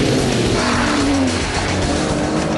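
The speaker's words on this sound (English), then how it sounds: "the sheer sound of that V12 warming up" Aston Martin DBS with its 510-horsepower V12 engine, heard as a loud, steady, close engine roar that holds throughout with no talking.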